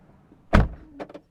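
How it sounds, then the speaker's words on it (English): Car door of a 2022 Porsche 911 GT3 shuts with a single solid thud, followed by a few soft latch and trim clicks, close and isolated. "Doors close with a satisfying thud"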